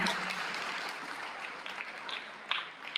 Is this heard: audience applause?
yes